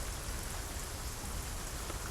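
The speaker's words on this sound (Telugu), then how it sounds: "ఇంకా వాన తెరిపివ్వలేదు." Steady, dense rainfall hisses continuously and evenly throughout, a constant wash of drops on surfaces with no voices present.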